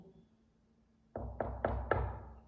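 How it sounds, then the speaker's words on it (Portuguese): Four knocks on a door in quick succession, hollow and fairly close, after a quiet stretch with nothing else heard. "Bateu na porta, o porquinho nem deu bola"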